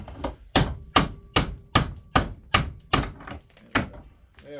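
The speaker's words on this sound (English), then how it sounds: "I keep hitting the vise." A hammer strikes metal while a transformer is being scrapped for copper, landing roughly nine sharp, evenly spaced ringing blows in quick succession close up, each with a short metallic decay as it hits the vise.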